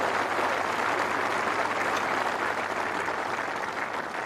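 A large golf crowd at the 146th Open Championship at Royal Birkdale applauds a shot. The clapping is steady and dense, sustained at even loudness for several seconds.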